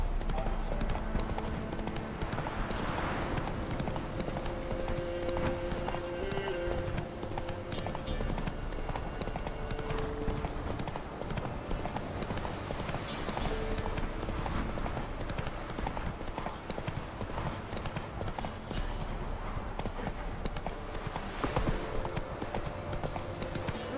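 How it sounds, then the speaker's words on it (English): Horse galloping in The Witcher 3, a rapid continuous clip-clop of hooves under the game's background sound, with a brief neigh and voices speaking at times. "Whoa there, Roach. Halt!"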